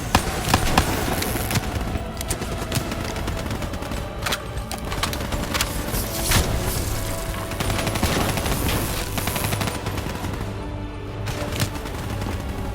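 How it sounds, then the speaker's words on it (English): Relentless gunfire and explosions from self-detonating robots in Call of Duty: Black Ops III fill a chaotic combat scene, with rapid shots, sharp blasts and booming impacts layered densely and loudly throughout. "They're detonating themselves to get in the control center!"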